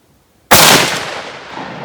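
A single loud Mosin-Nagant rifle shot fired outdoors at a clay target, a sharp sudden crack followed by a long rolling echo that slowly fades, with no talking.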